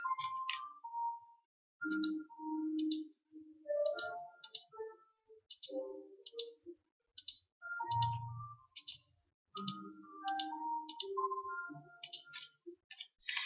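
A computer mouse clicks steadily in drawing software while lines are erased one by one, with sharp, close clicks in quick pairs and runs, accompanied by soft interface tones and chimes.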